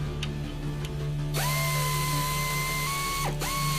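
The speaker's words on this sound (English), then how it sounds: "install the lower mounting bolt" Power tool driving the lower strut mounting bolt on a 2004 Ford Taurus SES during a Monroe Quick Strut install: a steady whining drill run that rises and holds, briefly dips, then spins up again, close and loud over faint shop background.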